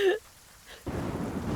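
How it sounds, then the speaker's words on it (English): Heavy rain ambience plays loud and steady as a sound effect, with a brief higher tone at the start and a quieter gap before the dense hiss returns; no talk. "Let me turn up the rain a little bit. It needs to rain louder."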